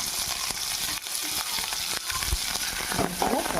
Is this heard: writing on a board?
no